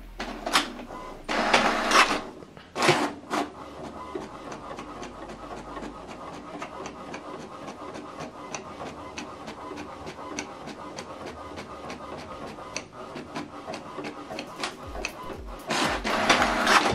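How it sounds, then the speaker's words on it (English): An HP Deskjet 3772 inkjet printer prints a document in black and white, giving a steady close mechanical whir with fine rapid clicking and louder feed bursts near the start and end. "Now this document is printing."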